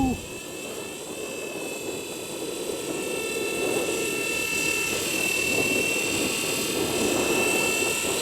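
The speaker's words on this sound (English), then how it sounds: "I love the way these blades sound." A Blade 230 S V2 RC helicopter in flight outdoors in the cold, its rotor blades giving a steady whirring buzz with a high motor whine, close and constant throughout.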